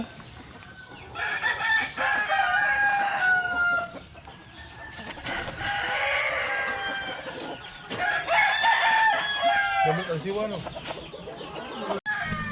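Pet chickens cluck and a rooster crows repeatedly near a backyard coop, the calls overlapping in a busy farmyard chorus while someone talks over them.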